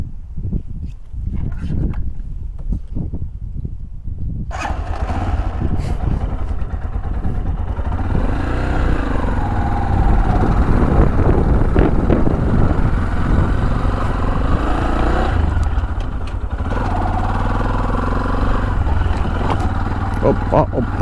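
Chinese motorcycle ridden through hunting grounds on the Left Bank of Kyiv region, its engine droning steadily and loudly close up with clatter over rough ground, a voice talking over it.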